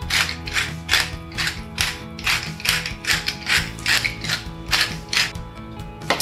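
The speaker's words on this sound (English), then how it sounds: "we're gonna finish it off with some freshly ground pepper" Fresh pepper ground from a pepper mill over sweet potato noodles makes a close, rhythmic crunching and ratcheting, with a dozen or so repeated grinding turns and no voices.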